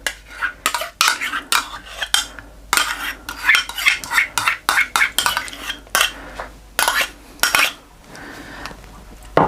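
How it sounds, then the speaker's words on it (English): Sugar and yogurt worked into dough with a spoon in a bowl, a run of loud, close, irregular scrapes and clinks of metal against the bowl with brief pauses between bursts, no voices. "we're just going to mix it all now and just bring that dough together, first of all with the yogurt"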